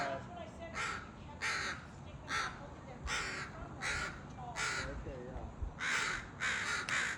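Crows caw loudly in repeated harsh bursts, several birds calling in quick succession with short gaps, close by and outdoors, with no talk.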